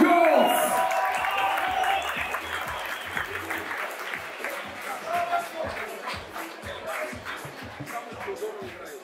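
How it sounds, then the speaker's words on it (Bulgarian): Crowd applause after a technical-knockout win at a kickboxing fight championship, with steady, dense clapping throughout. An announcer speaks over the start and the arena crowd murmurs underneath. "Вашите аплодисменти за победителите в тази среща!"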